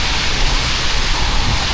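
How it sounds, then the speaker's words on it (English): Heavy rain pours on a city street in Chongqing, a loud, dense, constant hiss of water close by with no voices. "It is super rainy day."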